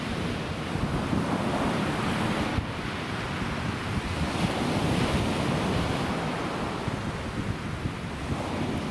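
Sea waves wash continuously onto the shore under a gusty wind, a dense, loud roar with buffeting wind noise on the microphone and no voices.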